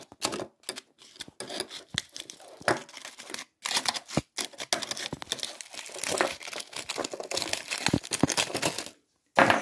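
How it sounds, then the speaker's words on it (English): Vermiculite powder tipped out of a small prototype Keum-Boo hotplate, giving gritty rustling and pouring crackles with irregular clicks and short pauses, close and fairly loud. "if I tip the powder out, the vermiculite"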